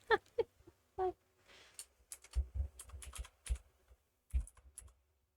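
Keys clatter on a computer keyboard in quick, irregular bursts of close, soft clicks with short pauses between them, heard alone with no talking.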